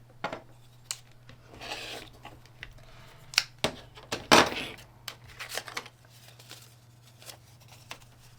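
Scissors cut quilt fabric a quarter inch from the fold, giving a few scattered, close snips and soft rustling bursts, with one louder crisp cut in the middle, over a faint steady hum.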